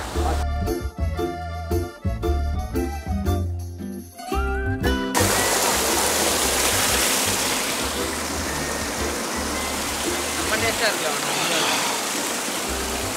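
Waterfall at falls in Scotland, a steady broadband rush of falling water that takes over after a few seconds of music and continues loud and constant to the end.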